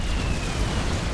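Explosions from a bombing run in a strategy video game form a dense, loud, continuous rumble of blasts, packed tightly together with no clear gaps and no voices.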